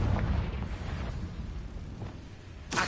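Confringo blast spell cast in a Harry Potter video game, a loud rumbling explosive burst that sustains for a couple of seconds, followed by a sharp new burst at the end.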